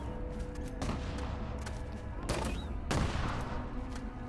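Video game gunfire in a stealth match with an explosive build: a steady rattle of shots punctuated by a few louder bursts and blasts, with faint background sounds and no clear talk.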